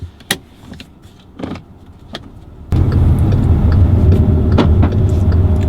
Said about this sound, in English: we are in the 2018 Passat GT and I'm ready to take this thing for a ride